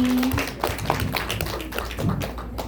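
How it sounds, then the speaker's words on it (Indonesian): Scattered hand claps from a small group of teachers at a training session, light and uneven, tapping along briefly in a room without voices over them. "Kasih tepuk tangan dulu dong untuk Pak Juni."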